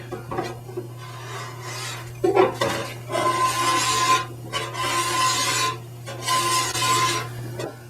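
A tape-wrapped file rasps along steel ski edges in long repeated strokes, a steady scraping that swells and fades with each pass over a constant low hum, close and fairly loud with no talking.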